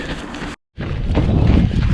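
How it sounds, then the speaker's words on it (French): Strong wind buffets the microphone of a runner on a quiet gravel-shouldered country road, a steady low roar broken by a brief dropout, then returning louder and gusting. "il y a du vent dans ma figure, c'est pas amusant"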